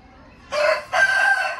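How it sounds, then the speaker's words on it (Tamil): An Aseel rooster crows nearby in one short, loud call with a brief break in the middle, against a quiet background. "பூதி கோழி"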